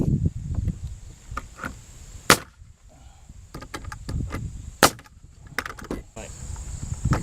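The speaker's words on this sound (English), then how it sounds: "that nail gun just pops it in there" Nail gun driving nails into a slightly warped wooden board, several sharp pops spaced a second or two apart over a steady high hum, with a voice faintly present.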